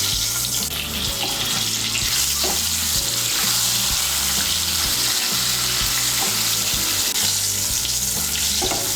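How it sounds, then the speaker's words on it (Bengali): Boiled potato pieces coated with salt and turmeric frying in a wok of oil for egg biryani: a loud, steady sizzle with bubbling crackle throughout and occasional stirring scrapes, with no voices. "এই তেলের মধ্যে আমি আলুগুলো ভেজে নেব।"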